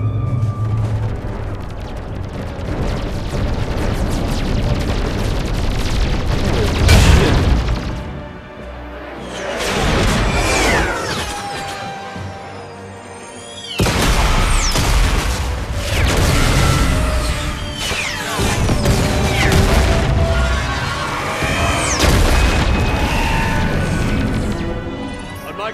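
Mass Effect 3 combat fills the scene with dense, loud weapon fire and booming explosions, crashes and whooshing blasts in several bursts, with a brief lull midway before the barrage resumes.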